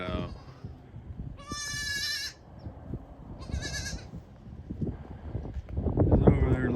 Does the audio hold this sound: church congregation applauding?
no